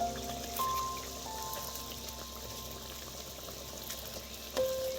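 Gravy for doi katla, a Bengali curd fish curry, bubbling at a steady boil in a pan, with soft popping and burbling over a low hum, and a couple of brief tonal beeps in the background.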